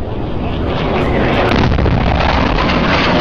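A loud, dense roaring sonic boom blast fills the clip, a sustained rumbling boom with crackling texture and no speech.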